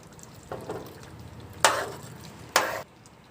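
A spoon stirring thick chicken curry gravy with masala powder in a pan, giving soft wet scraping and a couple of sharper sizzling swishes over a quiet background, with no voices.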